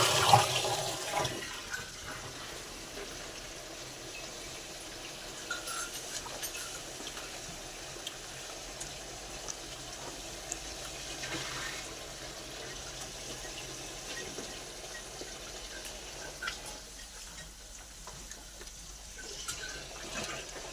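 Steady rush of running water pouring continuously for a long stretch into a cow's drinking water, fairly quiet, with no talking.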